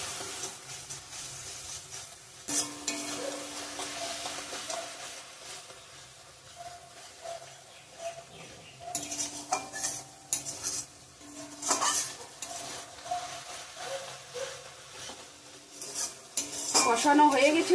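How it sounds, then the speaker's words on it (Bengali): Chili, cumin and coriander powder sautéed in a pan for a potato and paneer curry, with a spoon repeatedly scraping and clinking against the metal over a faint sizzle, in uneven bursts close by. "লঙ্কার গুঁড়া, জিরে গুঁড়া, ধনে গুঁড়া দিয়ে দিলাম সব মশলা। ভালো করে কষিয়ে নিব।"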